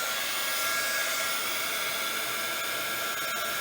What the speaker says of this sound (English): Again, I want a nice hot heat gun.